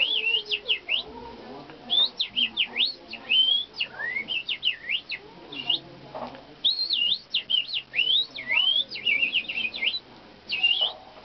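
Human whistling that imitates bird song: rapid, high warbling trills and chirps in bursts with short pauses, close and clear, with faint breathy sounds between phrases.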